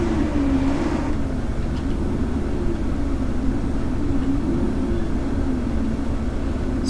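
Truck engine idling in American Truck Simulator, a steady low drone with a slowly wavering hum, close and even throughout with no talk over it.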